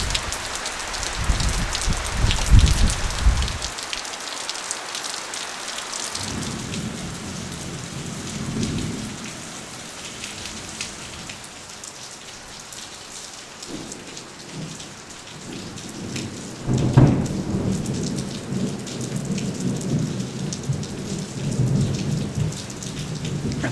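Heavy tropical rain pours down steadily on Koh Mak, Thailand, with rumbling thunder rolling in several times, loud bursts near the start and a sharp crack later, with no voices.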